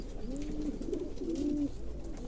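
Tumbler pigeons in a loft in Konya, Turkey coo softly nearby, a couple of low rolling calls in a row, with faint background noise and no talking.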